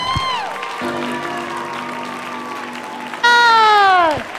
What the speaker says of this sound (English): Huge applause for Jenna on Bruno.